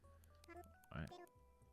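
Cheerful little button beeps and blips from the Nook phone in the video game Animal Crossing: New Horizons, several short tonal chirps in quick succession, quiet and close, with a brief spoken voice in the middle.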